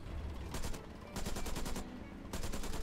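A French tank's machine gun firing in a video game, three rapid bursts of closely spaced shots separated by short pauses, loud and near.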